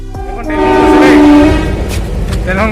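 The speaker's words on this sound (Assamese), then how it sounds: "ট্ৰেইনখন গৈছে" A passing train sounds its horn during a Kerala lockdown, a loud sustained blare that rises from the first half-second and holds strongly before easing, over rumbling wheel noise and street ambience.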